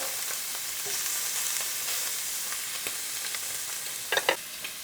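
Steak and shrimp sear in a hot pan with a steady, even sizzle close by, a few soft clicks of pieces being placed and a brief burst of louder crackling near the end; no talking.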